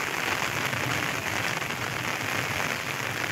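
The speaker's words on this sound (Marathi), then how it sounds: "अचानक झालेला हा अवकाळी पाऊस" Sudden unseasonal heavy rain, a cloudburst, pours down in a dense, even hiss of falling water, steady and unbroken throughout.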